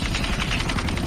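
Rapid rhythmic thumping of a helicopter's rotor blades in a 2D zombie video game, loud and close, continuous over a brief stretch.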